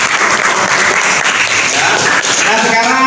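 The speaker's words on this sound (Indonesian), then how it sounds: "Tepuk tangan semuanya." Loud, dense applause from a classroom of students after a group presentation, continuous and close, with voices mixed in near the end.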